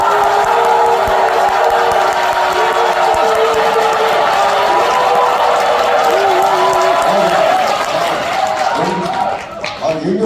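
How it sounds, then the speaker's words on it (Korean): A lecture audience in Korea bursts into sustained applause and shouting cheers, loud and dense throughout, fading near the end. "자, 박수 함성 시작!"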